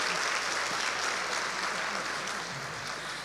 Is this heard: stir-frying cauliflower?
no